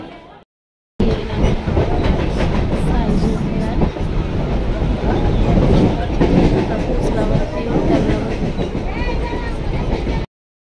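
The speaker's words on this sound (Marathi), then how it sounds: "तर आता ट्रेनची वाट बघतोय, ट्रेन आलं की ट्रेनमध्ये बसू" A suburban train near Panvel rumbles steadily with a rattling clatter, loud and continuous, with faint voices mixed into the din.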